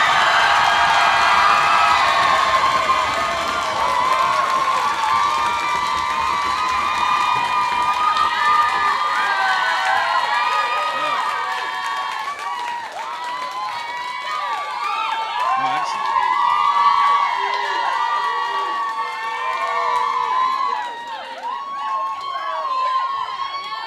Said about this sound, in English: please clap your hands and stand your feet